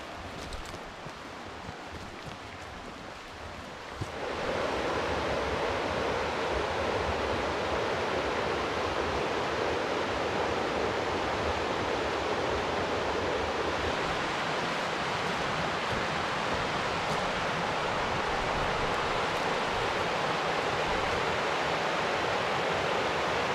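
A river with a strong current in Lemmenjoki National Park rushes loudly as a broad, constant roar, quieter for the first few seconds and then holding at full strength with no speech over it.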